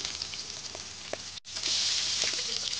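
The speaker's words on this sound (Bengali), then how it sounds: "মাছগুলো এক পিঠ ভাজা হয়ে গেছে, আর এক পিঠে উল্টে দিয়েছি" Katla fish tail pieces rubbed with salt and turmeric fry in hot oil, giving a steady close sizzle. A brief cut midway is followed by a louder, fuller crackle.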